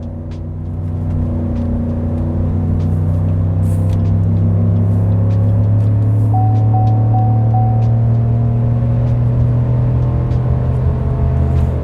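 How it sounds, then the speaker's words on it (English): A Chevy 1500 with a 6.2L V8 accelerates at full throttle on a highway while towing a trailer, its deep engine roar climbing steadily and staying loud throughout with no talk over it. "it's time for another acceleration test, getting back on the highway to the floor"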